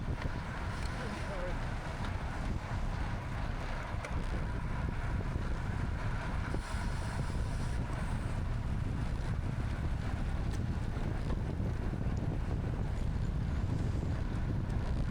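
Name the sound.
headwind noise while cycling in a race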